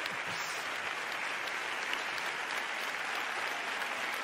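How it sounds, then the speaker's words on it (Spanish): A theater audience applauds at a hospital oncology-hematology unit's medal award ceremony, many hands clapping in a full, sustained roar that holds steady throughout with no talk over it. "menudos aplausos"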